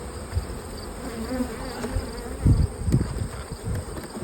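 A honeybee colony hums at an open hive, a dense steady buzz close by, with individual bees droning louder as they pass and a few soft knocks of hive handling.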